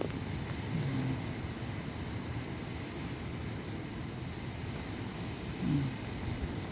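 Strong wind roars steadily outdoors as a low, constant rumbling rush with a couple of slightly louder gusts.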